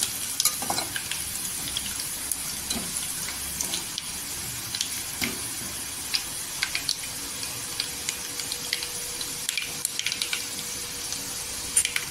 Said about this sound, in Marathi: इथे लसणीचा असा गोल्डन कलर करून घ्यायचा.